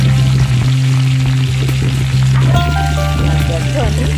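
Ridge gourd frying and being stirred in a wok, a steady loud sizzle running throughout with a low hum and a few scraping stirs; a voice talks over it.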